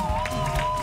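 A studio audience on a French television talk show cheers and applauds for a guest, a dense steady wash of clapping and crowd noise over a sustained tonal hum, continuous and fairly loud throughout.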